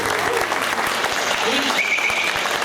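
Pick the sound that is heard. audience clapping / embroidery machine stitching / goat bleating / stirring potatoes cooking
audience clapping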